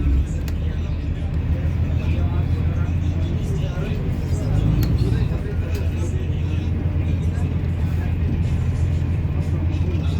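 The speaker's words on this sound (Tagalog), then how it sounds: "Ayan oh, ang bagal umusad ng sasakyan." Slow, jammed traffic of cars and buses on a congested road, a continuous low engine rumble and road roar that swells slightly midway, with a voice speaking over it.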